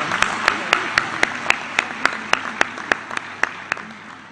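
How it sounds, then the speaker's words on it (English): A slow, steady run of single claps, evenly spaced and fairly close, with faint murmuring underneath rather than full crowd applause. "Can we have another round of applause?"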